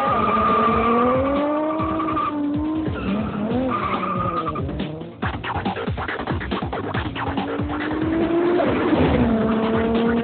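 A Ferrari skids hard with sustained, loud tire squeal and a strained, revving engine, continuous and close for about ten seconds with no talking.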